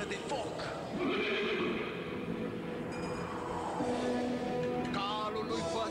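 A horse neighs and whinnies with clip-clop hooves amid a busy, layered soundscape, and a voice speaks over it.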